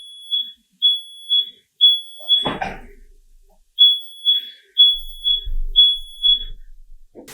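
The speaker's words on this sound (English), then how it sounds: "That fire alarm is super sensitive." A sensitive kitchen smoke alarm sounds loud, close groups of three shrill beeps, interrupted midway by a brief cough or throat clearing and some low rustling, then the beeping pattern resumes.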